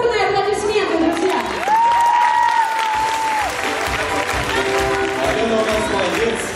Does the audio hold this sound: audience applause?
yes